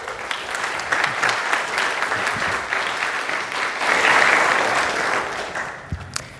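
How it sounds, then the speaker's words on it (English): A conference audience claps for a coding speaker taking the stage, a sustained round of applause from a sizable room that builds to a peak before thinning out into a few scattered claps. "Big round of applause."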